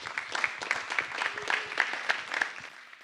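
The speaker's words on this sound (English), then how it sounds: "Please give him a warm applause." A conference audience claps to welcome a speaker onto the stage, a brief, fairly faint round of scattered hand claps that thins toward the end.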